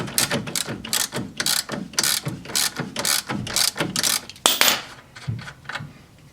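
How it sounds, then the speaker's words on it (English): An 18mm ratchet clicks in rapid, uneven bursts up close while turning a bolt during strut mount work on a 1998 Audi A6 Quattro, with no talking. "and then an 18mm ratchet or wrench on the other on the bolt"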